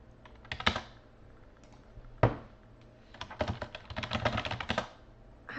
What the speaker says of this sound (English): I should probably try typing it, right?